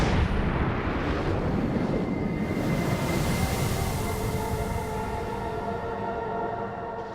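Deep rumble of an asteroid impact with the ground shaking, a loud, continuous roaring wall of low noise that swells early and slowly fades, heavy and close, with no voices.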